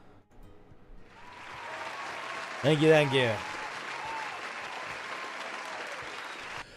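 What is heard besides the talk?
applause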